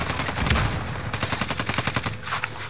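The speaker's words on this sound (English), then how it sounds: "Taking shots." Rapid bursts of video game gunfire during a multiplayer battle royale match, a loud rattling string of automatic shots in quick rhythm, close and dense, with no talk over it.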